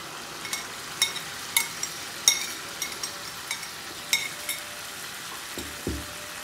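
Mashed eggplant being fried with spices in hot oil, with a soft steady sizzle broken by repeated clicks and scrapes as it is stirred in the pan, and a couple of duller knocks near the end.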